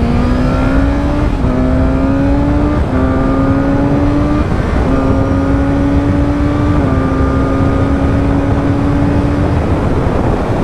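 A BMW motorcycle runs hard around the MotorPark Romania race circuit, its engine screaming loud and close as the pitch climbs through repeated gear changes with short dips between shifts, alone without talk.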